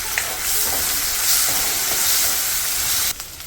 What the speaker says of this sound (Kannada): ಈಗ ಇದ್ರ ಜೊತೆಗೆ ನಾನು ಬಟಾಣಿ ಹಾಕ್ಕೊಳ್ತಾ ಇದ್ದೀನಿ ಬಟಾಣಿ ಸ್ವಲ್ಪ ಫ್ರೈ ಆಗುತ್ತೆ